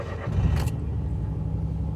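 A car engine starts with a brief sharp crank burst, then settles into a low, steady rumble, heard close from inside the car.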